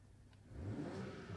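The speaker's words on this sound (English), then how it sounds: "And if Jonas wants, he can also rev it up a little bit." BMW M340i, the M Performance 3-Series, with its engine revved while parked: a quiet start, then a loud, sustained rising growl for about a second, heard alone without talk.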